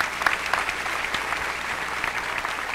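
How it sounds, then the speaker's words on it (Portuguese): Steady applause from the audience at the opening ceremony of an international congress, a dense wash of clapping that holds evenly for the whole stretch with a few sharper claps near the front. "Another round of applause for them."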